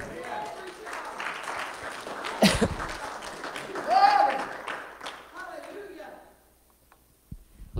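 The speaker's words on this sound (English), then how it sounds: "Give him a hand clap" A church congregation claps during a sermon, with a burst of applause rising around the middle, heard under ongoing preaching and then trailing off into near quiet.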